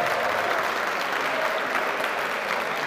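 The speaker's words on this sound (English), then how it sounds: "Give him a round of applause." A crowd at a university engineering design competition in Canberra applauds a team, producing a thick, continuous wash of clapping that stays loud and steady from start to finish.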